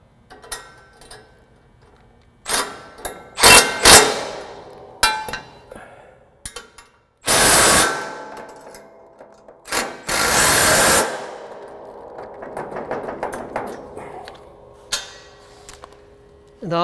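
Nuts and bolts are snugged up during assembly of a SnowDogg V-plow, close-up metallic clinks, ratcheting and scraping bursts separated by quiet gaps.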